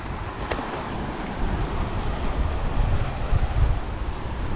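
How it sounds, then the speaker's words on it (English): Rough Mediterranean sea beside an isolated lighthouse, with crashing waves and gusting wind buffeting the microphone, a steady loud roar that swells slightly midway, with no talking. "Look at this badass ocean. looks so angry."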